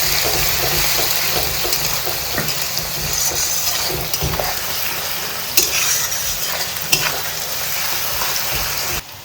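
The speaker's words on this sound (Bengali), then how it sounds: "এবার রসুন বাটা দিয়ে দেবো। রসুন বাটা একটু লাল লাল করে কষানো হবে।" Garlic paste fries with browned onions in a pan for a Bengali chicken curry, giving a steady, loud sizzle throughout with occasional stirring scrapes and clicks close by.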